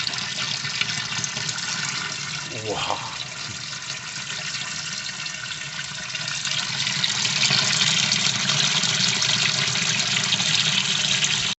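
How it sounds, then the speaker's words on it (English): Water running steadily into large reptile tanks being topped up for a leak test, a continuous close rushing flow that grows fuller toward the end, with a brief spoken exclamation. "So we're topping up the first couple, getting about a reasonable amount of water in them"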